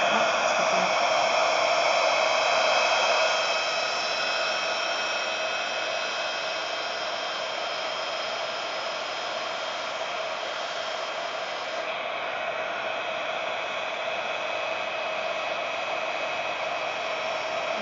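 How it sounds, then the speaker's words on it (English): A heat gun runs continuously for heat embossing, giving a steady close blowing roar like a hair dryer with a slight drop in level partway through and no speech. "then I'll bring the gun on again, and we will heat emboss it."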